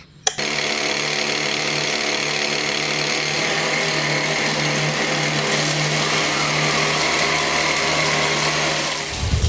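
Loud, steady whine of a motorized drill digging into the ground, droning with a grinding hum before cutting off at the end.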